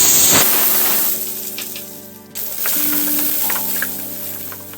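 Sliced onions dropped into hot oil with fennel seeds, a loud steady sizzle and hiss close by that briefly dips, then resumes with light stirring clinks.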